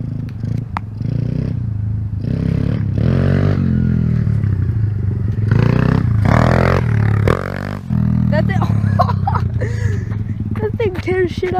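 A clutchless motorbike rides slowly past, its engine droning steadily and rising and falling over about twelve seconds, with people talking over it throughout.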